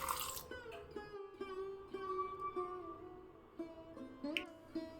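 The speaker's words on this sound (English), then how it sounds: "Adding water." Water being poured into a spice grinder jar holding whole spices and saunf for a fine paste, a short splash and trickle followed by gurgling, sloshing liquid sounds close up.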